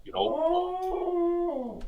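A dog lets out a single close, sustained howl that wavers in pitch, rising and then sliding down at the end.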